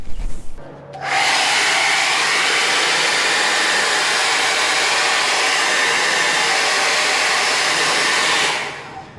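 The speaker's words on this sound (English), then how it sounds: "The hair dryer works perfect." A hair dryer starts after a brief pause and blows loudly and steadily on a car decal to loosen it, a constant close-up rush of air and motor noise that cuts off near the end.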